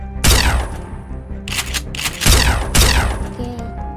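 Gunfire from a horror video game as a gun is loaded and fired, with several loud, sharp blasts and brief reloading clatter spread across a few seconds amid game noise.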